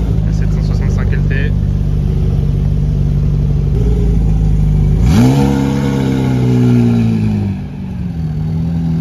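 A McLaren 765LT sports car at Pebble Beach Car Week idles with a loud, close rumble, then snaps into a sharp rev that rises and slowly falls away, with people chattering nearby.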